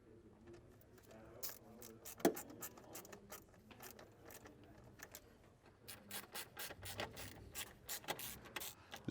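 Ratchet clicking in quick irregular bursts as 8mm bolts are snugged down into plastic housings on a Porsche 996 911 air oil separator job, close and fairly faint, with some rubbing and handling noise between runs.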